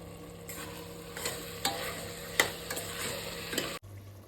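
Chicken being sautéed in a pan for biryani, with a steady sizzle and frying hiss broken by several sharp stirring scrapes and clicks, close and moderately loud, no voices.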